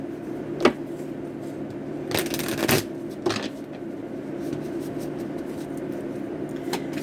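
Tarot cards are shuffled in a few soft riffles and flicks, faint and close over a low background hum.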